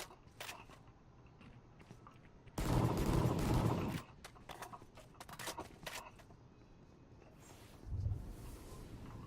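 Video game gunfire, a dense rapid burst of shots followed by scattered single shots and clatter, moderately loud, with no speech over it.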